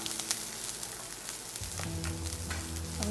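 Chopped garlic, ginger and a finely cut green chili frying in oil in a pan, a continuous close crackling sizzle with the scrape of stirring and a low hum entering partway through.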